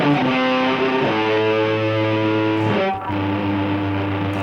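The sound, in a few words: distorted electric guitar solo ending with amp noise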